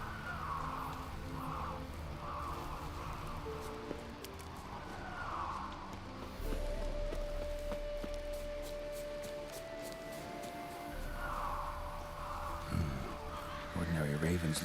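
Ravens caw in The Witcher 3 video game, several harsh calls repeating against a steady ambient game soundscape with low music and droning tones underneath.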